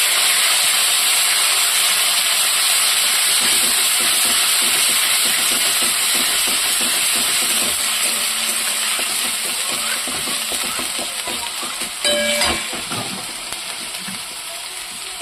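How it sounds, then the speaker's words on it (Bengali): Onion paste and garlic paste frying with cumin in a pan for a fish curry, a loud steady hiss of oil and steam that eases slightly toward the end, with a brief clatter near the close. "এরপর দেখো পেঁয়াজ বাটা রসুন বাটা একসঙ্গে দিয়ে দিচ্ছি আমি। এরপরে ভেজে নেব।"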